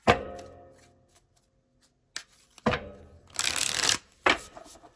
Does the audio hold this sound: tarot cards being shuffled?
yes